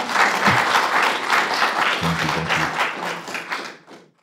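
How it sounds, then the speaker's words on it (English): A room of people at a Universal Peace Federation UK young achievers event breaks into brisk, continuous applause, a few low thumps mixed in, before the clapping thins and dies away at the end. "I think that deserves a round of applause"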